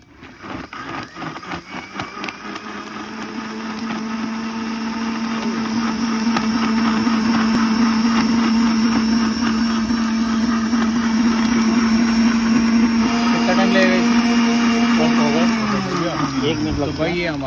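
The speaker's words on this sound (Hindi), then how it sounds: "अब हम इसको ग्राइंड करेंगे" An electric grinder blends gond katira and other ingredients, a loud motor whirring that builds up over several seconds, holds a steady droning pitch, then winds down near the end.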